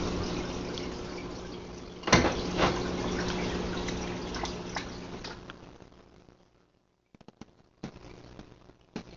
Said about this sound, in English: He's over here splashing water at me.